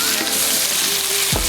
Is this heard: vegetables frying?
yes